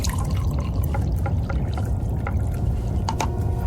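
Coffee pours in a radio drama, a steady close liquid trickle into a cup with a few small drips and clinks, under a low hiss and no talking.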